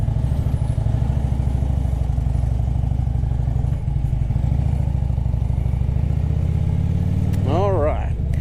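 Motorcycle fitted with KST Kustoms 12-inch Renegade handlebars riding down the road, its engine a loud, steady rhythmic throb close by, with a brief voice near the end.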